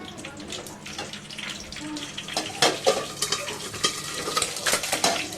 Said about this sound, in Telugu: చూడండి ఎలా బాయిల్ అవుతుందో